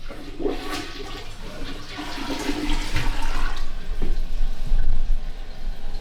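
A brand-new toilet in a rental being renovated flushes loudly up close, and water rushes and gurgles as the tank refills; no one speaks.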